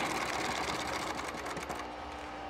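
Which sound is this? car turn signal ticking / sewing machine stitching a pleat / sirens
sewing machine stitching a pleat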